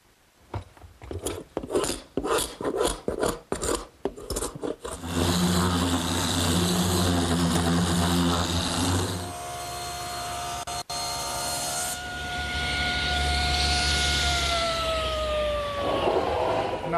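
Scraping dried excess glue off glued-up wooden panels for a Shaker tall chest, a series of rhythmic rasping strokes, then sustained whirring machine noise in a workshop.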